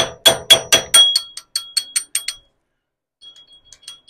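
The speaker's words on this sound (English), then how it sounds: "I just realized after kind of whacking away at that pin, again, it's not a pin, it's a bolt." Sharp metallic hammer blows strike a bolt on the crankshaft fan pulley of a 1927 Ford TT, about a dozen evenly spaced ringing hits fading in force, then a few faint light taps.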